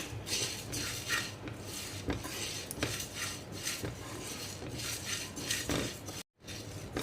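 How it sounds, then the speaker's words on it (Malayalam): Rice, fenugreek seeds and black peppercorns dry-roasting in a pan as the base for rasakalan, with a steady run of scraping and clattering strokes from a utensil, close and continuous, briefly cutting out near the end. "ഇനി ഇത് രണ്ടും കൂടിയും ചേർത്ത് നമുക്ക് വറുത്ത് അരി മുരിഞ്ഞ് വരുന്ന വരെ വറുക്കുക"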